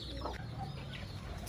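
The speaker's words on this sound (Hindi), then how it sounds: "यहाँ पर मुर्गियाँ आ गईं" Chickens clucking softly a short way off, a few brief calls over a faint background hum, with no voices.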